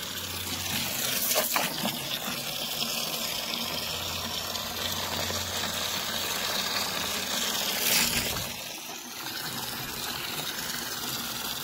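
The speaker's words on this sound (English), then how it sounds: "Letting it overflow a little." Water gushes steadily from a pump or tap as a fish tank is filled past the brim and overflows, a continuous broad rushing wash that swells briefly near the end before settling.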